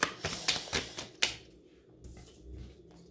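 Cards being handled and laid out for a card reading: a quick series of five or six sharp, close taps and snaps at a steady rhythm, followed by softer, fainter shuffling rustles.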